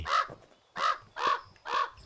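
A crow in the game Pumpkin Panic gives four loud, harsh caws at an even, unhurried rhythm, each call short and rasping with brief silences between, heard clearly with no talking.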